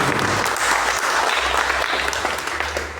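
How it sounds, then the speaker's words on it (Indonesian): An audience breaks into loud, sustained clapping for a guest at a community socialization event, a thick burst of many hands that fades gradually over about three seconds. "tepuk tangan untuk Mas Gopur"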